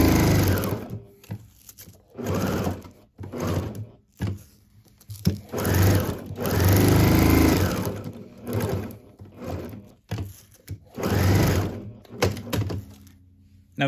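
Sewing machine edge stitching Velcro onto a quilted bag, with repeated bursts of fast stitching separated by short pauses and thunks, close and fairly loud.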